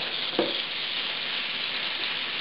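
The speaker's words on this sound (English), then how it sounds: "The sizzle portends great deliciousness." Steady, dense crackling sizzle of meat on a hot grill, with a brief louder pop near the start; no voices.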